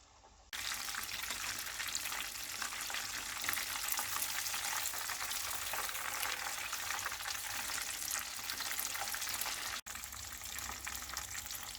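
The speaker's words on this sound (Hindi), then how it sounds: "मछली को मीडियम आंच पर फ्राई करेंगे।" Coated fish fries in hot oil over medium heat, giving a loud, dense, continuous crackling sizzle that runs unbroken for several seconds, with a brief dip near the end.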